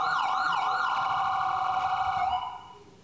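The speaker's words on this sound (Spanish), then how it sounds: "Mira, la ambulancia." A wailing ambulance siren sweeps up and down loudly, then settles into a steady tone before fading out abruptly near the end.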